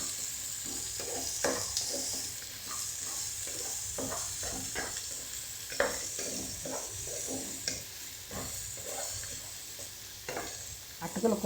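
Sliced onions, carrots and beans fry in a pan with a constant sizzle, broken by repeated scraping and clacking strokes of a spoon stirring them, close and without speech.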